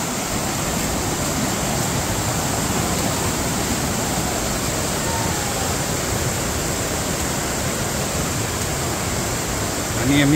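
Vajra waterfall in the forest, a steady, loud broadband roar of rushing water filling the whole stretch without pause, heard close by and alone.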